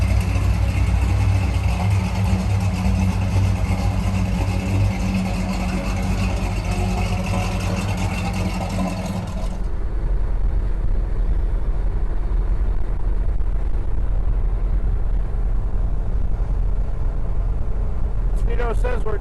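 A 1954 Chevy pickup truck drives along at around 52 mph, its engine a steady close drone with road rumble that drops in tone partway through as the truck slows or shifts.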